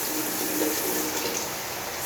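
Water rushing under pressure through newly connected PPR piping, a steady hissing flow that fills the short stretch evenly at moderate level, with no talk.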